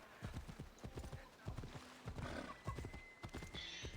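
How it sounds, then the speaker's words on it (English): A horse gallops in Assassin's Creed Odyssey, quick drumming hoofbeats running steadily throughout with a whinny-like cry, all at moderate level beneath faint game ambience. "You can go for a galloping ride."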